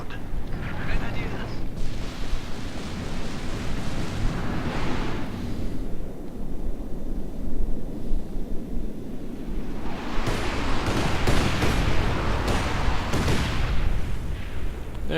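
Panzerwerfer rocket artillery barrage in Company of Heroes 2, a 2v2 match: loud, continuous rumbling booms and crackling volleys of explosions and gunfire throughout, swelling in dense bursts near the end, with commentary voices talking over the battle.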